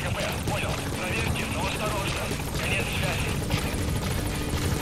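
A support helicopter arriving in Metal Gear Solid V: The Phantom Pain, its steady rotor roar and engine whine filling the mix continuously, with voices audible over it.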